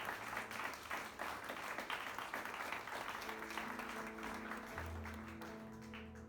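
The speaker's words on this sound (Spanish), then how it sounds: "Dale ese aplauso al Rey." A church congregation applauds in a dense, steady wash of clapping that lasts throughout, with sustained keyboard or organ tones entering beneath it partway through.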